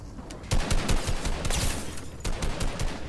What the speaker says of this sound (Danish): Nu bliver jeg skudt af en anden på grund af åben plom